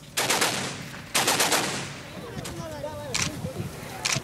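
Bursts of gunfire during a Taliban attack in Kabul, with two loud, rapid volleys of shots close together, then scattered single cracks amid a lower, chaotic background.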